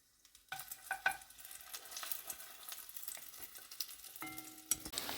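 A steady sizzle of breaded, meat-stuffed bread rolls frying in a pan, with a few clinks and scrapes of utensils along the way.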